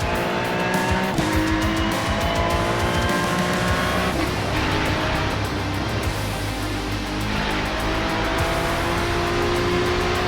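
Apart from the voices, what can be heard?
Ferrari race cars cornering at Laguna Seca in iRacing video game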